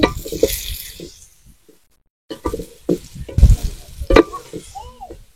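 Whole spices, a bay leaf torn in two, three cinnamon sticks and four or five cardamom pods, sizzling and being stirred in hot oil in a pan, with a loud fry that pauses briefly, then returns with scraping clatters.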